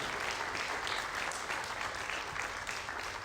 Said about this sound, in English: And also a huge round of applause to my publishers, Manaz and Sadia